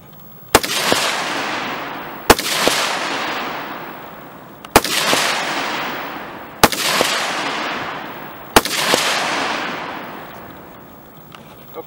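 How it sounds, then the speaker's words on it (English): A rifle fitted with a red dot sight fires five evenly spaced shots at a steel target, each a sharp loud crack followed by a long rolling echo decaying across an open range, roughly two seconds apart. "5 rounds center mass on the 2/3 steel."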